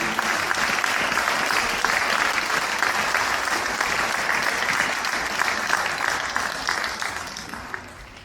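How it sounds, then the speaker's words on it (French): An audience applauds steadily at a mayor's New Year address in Saint-Chamas, France, a dense crowd clapping that stays strong for several seconds and then begins to taper off. "Je crois que vous pouvez les applaudir"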